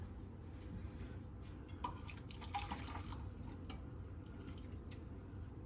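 Boiling water poured over a kitchen sink while making Disney Mickey beignets, a faint, steady trickle with light splashing and drips over a low background rumble, with no talking.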